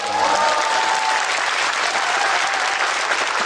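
A burst of steady applause from a crowd, dense and continuous clapping throughout, fairly loud and close.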